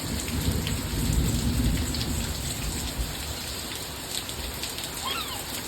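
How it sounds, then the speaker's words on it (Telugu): Steady rain pours onto surfaces with rumbling thunder underneath, a dense continuous hiss with low rolling booms through most of the stretch and a few faint bird calls. "వర్షం"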